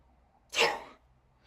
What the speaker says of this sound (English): sorry about that sneezing in your ear